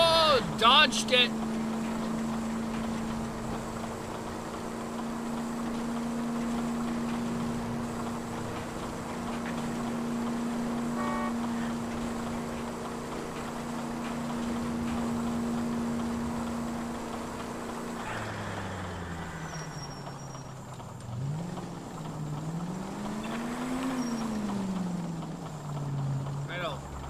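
A car engine in the video game L.A. Noire drones at an even pitch for a long stretch, then revs up and down in wavering swells near the end.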